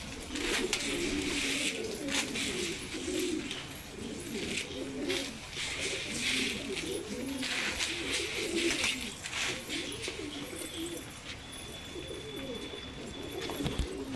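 Pigeons feeding on scattered grain coo softly and continuously in a low, rolling murmur; individual pecks are not distinct.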